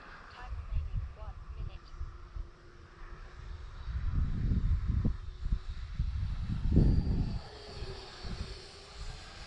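Arrows T-33 radio-controlled model jet flying outdoors on a windy day, a faint distant engine whine rising and fading under heavy gusty wind rumble on the microphone, with someone talking.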